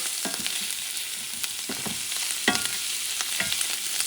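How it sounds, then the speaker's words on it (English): Onions and garlic fry in a cast iron pan, a steady bright sizzle broken by several scraping stirs of the spoon, close and fairly loud, with no talking. "So you want the onions and the garlic cooked."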